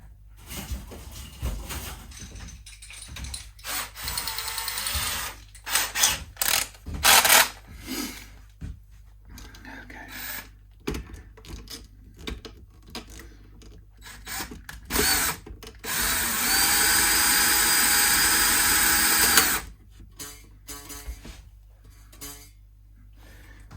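A string winder whirs in short bursts as strings are wound onto a 1962 EKO 500 guitar after a re-fret, then runs in one longer steady stretch near the end, close and fairly loud.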